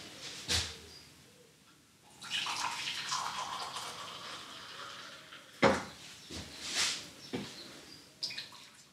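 Boiled water pours into cups and splashes in several bursts, with short gaps and a few clinks in between, fairly close and moderately loud.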